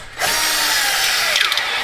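A power drill spins a carbide burr against aluminum while cleaning up bolt holes, a sharp, loud high-pitched grinding whine that starts abruptly and holds steady, wavering as the burr bites.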